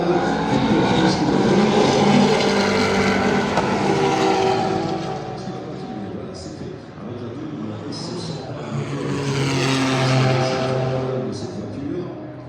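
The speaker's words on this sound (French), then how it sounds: "les voitures vont pouvoir prendre de la vitesse maintenant, c'est reparti, drapeau vert" Race cars at the Spa circuit accelerate after a green flag, a loud engine roar that builds and fades as cars pass, then swells again, heard from trackside under a commentator's voice.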